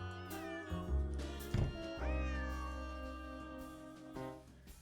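A cat named Yuri meows repeatedly in the Nancy Drew video game Secret of the Old Clock, drawn-out, close and clear yowls with short pauses between them and no talking.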